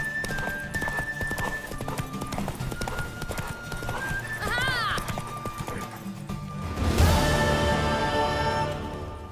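Horse hooves clip-clop in a quick, steady rhythm in The Witcher 3: Wild Hunt, joined by a whinny partway through and a louder thudding burst near the end, with faint voices in the background.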